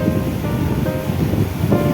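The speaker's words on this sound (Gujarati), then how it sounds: "કવાનું પાણી ચાલુ છે." Water flows continuously in a deep well, a loud, rumbling, surf-like wash that holds steady throughout with no voices.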